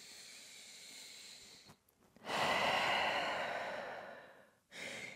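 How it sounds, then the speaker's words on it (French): A deep breath taken while holding a downward dog pose in a gentle vinyasa yoga session: a soft breathy exhale, a brief pause, then a long, loud, airy inhale swelling and fading, followed by the start of another breath. "Une grande respiration ici."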